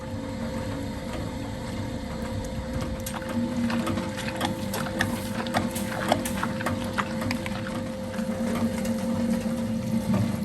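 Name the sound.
grinder grinding soaked rice coarsely with water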